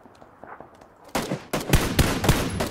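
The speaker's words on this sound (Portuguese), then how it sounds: "O cara passa o bagulho inteiro atirando." Bursts of rapid gunfire from the battle royale game PUBG Battlegrounds, quiet at first and then loud, dense volleys of shots crowding the second half without letup.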